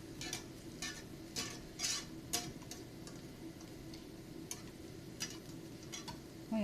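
Grated daikon radish galette-style pancakes frying in a pan, a quiet steady sizzle broken by light clicking and scraping taps from a utensil at irregular intervals.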